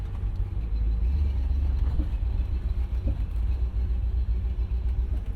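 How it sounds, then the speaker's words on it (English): With the window down, a Mercedes-Benz ML55 AMG drives while its engine misfires badly, giving a continuous low rumble with uneven, lumpy pulses and faint rattles throughout. "It's misfiring quite badly."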